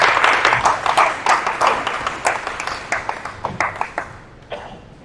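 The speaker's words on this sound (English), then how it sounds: "Another round of applause." Applause from a public forum audience after a talk, brisk clapping that starts strong and gradually thins and fades toward the end.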